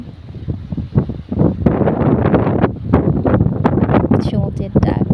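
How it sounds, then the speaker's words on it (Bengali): Strong wind at the seaside under a cloudy sky buffets the microphone in loud, gusty roars, while a person talks over it. "অনেক বেশি বাতাস হচ্ছে। অনেক শব্দ হচ্ছে আপনারা শুনতে পাচ্ছেন।"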